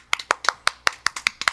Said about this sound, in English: Let's give our friend EBEN a little round of applause, a little baby one.